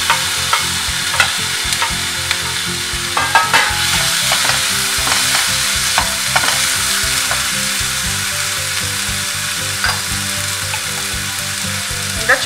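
Onion and tomato sautéing in a pan for chutney, with a loud, continuous sizzle and rhythmic spatula stirring close up, and no talking.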